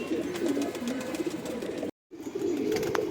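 Several Andhra and Madras breed pigeons coo in a loft, a steady low burbling that stops abruptly for a split second midway and then resumes at the same level.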